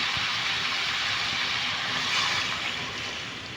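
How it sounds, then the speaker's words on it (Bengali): A loud, steady hiss of water hitting a hot pan of frying rohu fish curry with potato and tomato, holding strong for a few seconds and easing slightly toward the end. "আমি এখন এর মধ্যে অ্যাড করে দিচ্ছি পানি"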